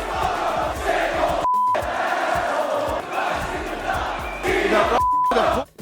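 An ECW wrestling crowd chants loudly and rhythmically at John Cena, a dense roaring mass of voices broken by two short beeped-out gaps.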